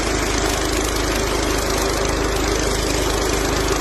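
Honda engine on a power sprayer running at a steady, loud, close throb with a fast even pulse, uninterrupted and alone.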